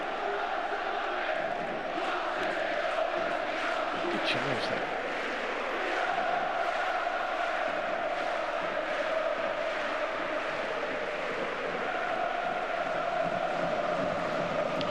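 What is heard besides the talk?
football stadium crowd cheering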